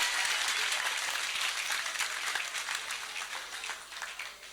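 An audience at a comedy festival applauds, a fairly distant, dense wash of clapping that holds steady and then fades away in the final second.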